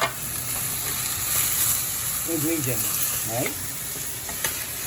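Tomatoes sizzle in a frying pan for adobong pusit (squid adobo), with a steady close frying hiss and a brief stretch of talk in the middle.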